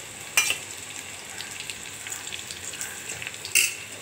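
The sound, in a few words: stirring garlic and onion frying in oil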